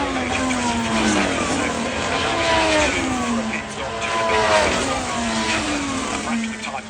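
Formula 1 cars at Silverstone screaming past one after another, engines whining high and dropping in pitch as they pass, loud and continuous with a voice talking over them.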